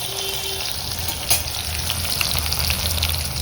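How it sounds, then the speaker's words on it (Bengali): Red potatoes frying until crisp in a pan, giving a steady close sizzle and crackle that runs the whole time, with one brief louder clatter partway through and no voices. "মচমচে করে একদম ভাজবো"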